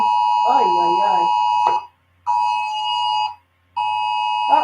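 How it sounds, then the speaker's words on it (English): A tornado alert alarm sounds in loud repeated tonal beeps, each lasting over a second with short gaps between, while a voice speaks over the first burst. "uh-oh, we have a tornado alert."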